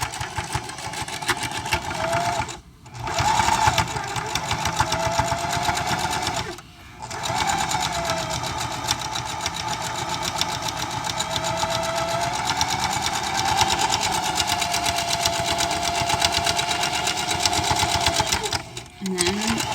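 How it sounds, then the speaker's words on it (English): A sewing machine runs a long seam down one side of a project, a steady close motor whir with rapid needle clatter, briefly stopping twice and again near the end, with speech over parts of it. "we're going to sew right down that side"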